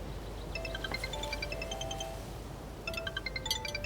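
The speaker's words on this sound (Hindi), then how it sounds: "कैप्टन का फोन है।" A mobile phone ringtone plays a bright, repeating electronic melody in two bursts, pausing briefly between them, heard clearly over a faint background hum in a dubbed drama scene.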